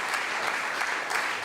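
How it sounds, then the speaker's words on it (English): Steady crowd applause at a community progress meeting, a dense wash of clapping held at an even level for a brief moment. "Let's give our leaders a round of applause."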